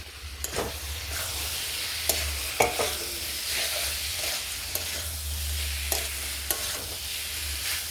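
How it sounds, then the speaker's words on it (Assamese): Boiled kidney beans fry and are stirred with spice masala in a pan, a steady close sizzle broken by repeated scraping stirs throughout, with no talking. "এতিয়া ৰাজমাখিনি মই মছলাখিনিৰ সৈতে 2 মিনিট টাইম ফ্ৰাই কৰি ল'ম"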